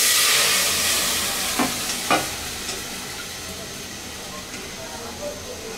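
Onions browning in a pan for a Bangladeshi masoor dal with drumsticks, giving a steady close sizzle of frying with a couple of scraping stirs of a spoon and a few soft clinks, no one talking.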